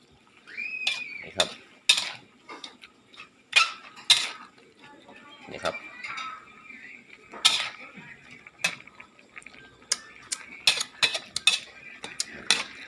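Catfish stir-fried with dried chilies in a pan: irregular sharp clinks and scrapes of a utensil against the pan, close and clear, with pauses between strokes and a faint background hiss.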